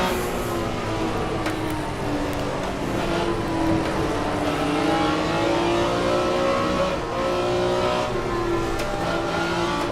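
A sports car in the racing game Assetto Corsa, a legends muscle car lapping the Willow Springs circuit, holds a loud, steady engine roar throughout, with rising and falling revs as it accelerates and shifts, heard close and alone.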